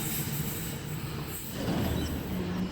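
A Sydney Trains Series 1 Waratah set, A71, rumbles along steadily at a moderate distance, its wheels grinding and faintly squealing on the rails. The noise stays continuous and swells slightly toward the end.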